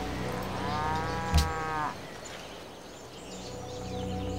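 A single long, deep cow moo from a video game sounds fairly close over a steady low background hum, with faint chirps around it.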